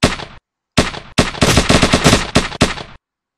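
Bursts of rapid automatic gunfire from a Unity shooter game come in four or five close, loud volleys separated by short silences.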